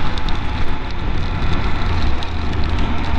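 Rain falls during a motorcycle ride through Galloway Forest in Scotland, heard as a dense, continuous hiss with scattered patter over a low rumble, with no voices.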